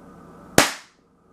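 The world's smallest airsoft gun, with a barrel about a centimeter long, fires a single BB as one sharp, snappy crack that decays quickly into quiet, close to the listener over a faint background hum.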